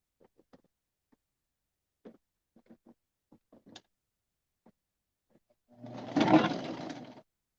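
A sewing machine stitches a fabric scrunchie closed in a quiet room, one burst of steady whirring near the end after scattered soft clicks and handling sounds.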